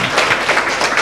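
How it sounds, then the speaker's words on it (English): A crowd applauds with dense, continuous clapping that stays steady and fairly loud throughout. "give a big wave and a round of applause in appreciation"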